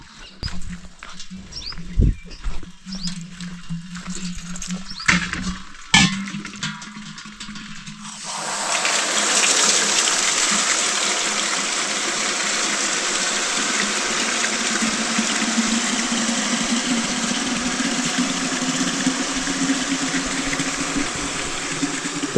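Water rushing steadily from an old village tap, starting with a loud burst partway through and then pouring continuously, close and loud, after some earlier clattering and handling noises.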